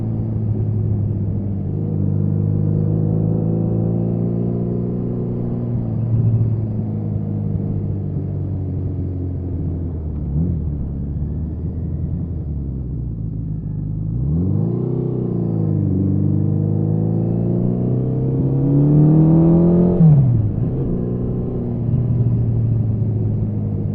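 A 1981 Suzuki GS650GL motorcycle engine hums steadily as it is ridden through a village, its tone rising and falling with throttle changes, fairly close and continuous throughout, with no talking.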